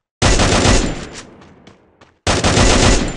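An M39 gun firing rapidly in the Free Fire video game, heard as a loud, fast burst of shots, a decaying tail with a few scattered pops, then another rapid burst.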